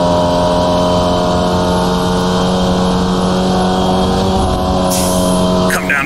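Formula Vee race car engine in the sim racing game iRacing, a loud, steady, buzzing drone heard close and continuous, with a brief change in tone near the end.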